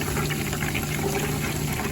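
Butter simmers into ghee in a pan, giving a dense, continuous crackle of fine bubbles that fizzes steadily at moderate loudness throughout.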